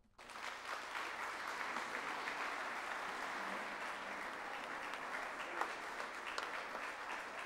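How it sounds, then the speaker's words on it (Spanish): Audience applause after a lecture on ethical journalism by Ignacio Ramonet. The clapping starts at once, then rolls on evenly for several seconds and sounds fairly distant and soft. "Aplauso."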